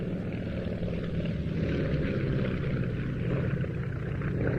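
A Beechcraft Staggerwing cabin biplane with retractable undercarriage flies past at an airshow, its radial propeller engine giving a steady, loud droning rumble that holds even throughout.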